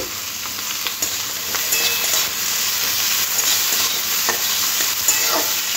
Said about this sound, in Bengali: আলুটাও পেঁয়াজের সাথে একটু হালকা ভেজে নেব